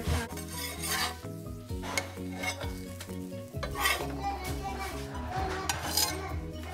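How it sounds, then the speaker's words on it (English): Ragi and spinach mixture stirred in a pan, repeated scraping and clinking of a utensil against the metal over a soft sizzle, with faint background voices in places. "time to stir it up"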